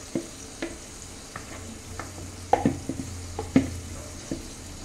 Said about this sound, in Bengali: পুরো ম্যারিনেট করা চিকেনটা দিয়ে দিলাম।